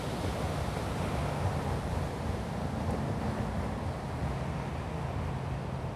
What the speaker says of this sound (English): Nice waterfall action.